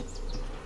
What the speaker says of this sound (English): So I got attacked by bees.